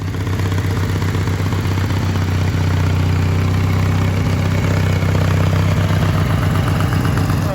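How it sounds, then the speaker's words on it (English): A Jeep-styled riding mower engine runs steadily at idle, a constant close low drone with no change in pace and no talk. "Me and Millie going to drive the Jeep mower."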